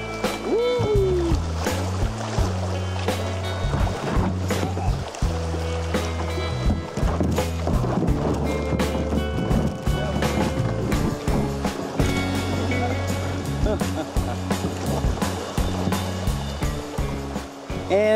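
Water slaps and splashes against a kayak on the New River, loud and close in a steady churning wash with repeated sharp bursts, no talking.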